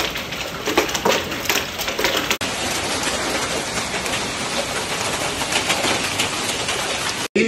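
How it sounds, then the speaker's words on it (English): Hail pouring down outdoors, a dense, steady hiss of pelting ice hitting surfaces, loud and continuous throughout with no voices. "I'm gonna show y'all some hail coming down."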